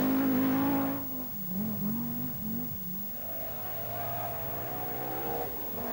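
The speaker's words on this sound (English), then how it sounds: "Look at this four-wheel drive machine at work." A four-wheel drive rally car at speed on the 1982 Welsh Rally Sprint, its engine roaring loud and close, then dropping to a steadier, more distant drone as it pulls away.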